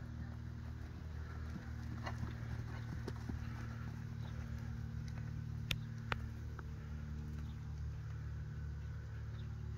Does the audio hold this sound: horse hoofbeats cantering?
yes